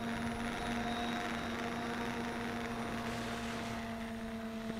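A WLToys V383 quadcopter drone flies at high speed with its pitch pushed forward, producing a steady, loud propeller whine with a sustained motor tone throughout.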